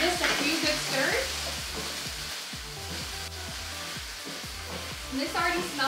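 Garlic, ginger, scallion and chili paste stir-fry in a pan for a close, constant sizzle, with repeated clicking spatula strokes and faint background murmur.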